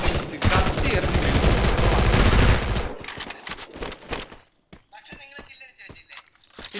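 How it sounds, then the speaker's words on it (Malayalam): Rapid bursts of gunfire from the Free Fire video game fill the first few seconds in a dense, loud volley, then thin into scattered single shots and clicks over quieter game sounds. "ഒന്നും ചെയ്യാതെ അവസാനം വന്നൊരു വെടി."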